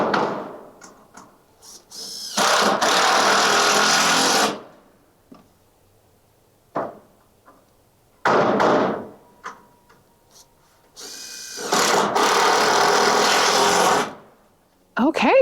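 Bursts of a power driver sinking screws through metal roof panels on a covered chicken run, several separate runs of a few seconds each with quiet gaps, close and loud.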